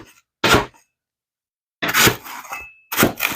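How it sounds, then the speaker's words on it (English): Brittle freeze-dried flat tan pumpkin crunches and crackles in three short bursts as a blade cuts through it, with quiet gaps between the cuts and no speech. "You hear it crunching from whenever I cut it."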